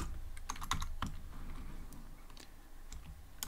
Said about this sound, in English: I'll type name equals to Bob.